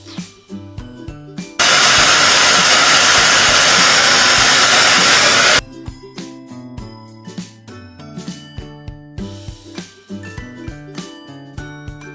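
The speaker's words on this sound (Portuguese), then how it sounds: "Agora vamos secar o cabelo, né?" A hair dryer blows hair dry in one loud, steady whoosh lasting about four seconds, with background music playing before and after.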